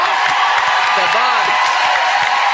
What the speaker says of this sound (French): On applaudit les Verts.